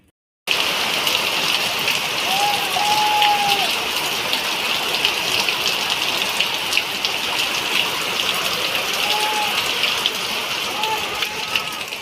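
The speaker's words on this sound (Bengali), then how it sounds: "বাইরে খুব বৃষ্টি হচ্ছে বন্ধুরা" Heavy rain falling outside, a loud, steady, close hiss of downpour on surfaces that runs without a break after a brief silent start, with a voice faintly heard now and then.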